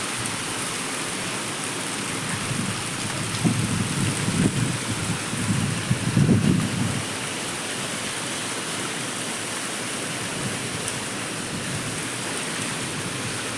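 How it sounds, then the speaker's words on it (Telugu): Steady heavy rain roars with gusty wind, swelling into a louder rush for a few seconds before settling back. "వర్షం కూడా గాలిలో కొట్టుకోబోతుంది"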